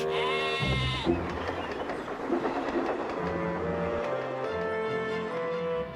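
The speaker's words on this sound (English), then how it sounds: "And a goat ate it for his lunch." A goat bleats over a bed of cartoonish music and steam-engine-like train sounds, the wavering cry standing out near the middle.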